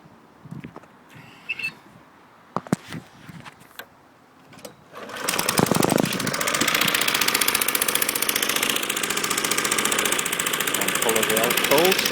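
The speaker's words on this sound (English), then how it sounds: "I'll start it up now for you to see and hear it running" An Acto petrol lawn mower is started after some clunks and handling noises, then its small engine settles into a loud, steady, buzzing run close by, with a voice briefly heard over it.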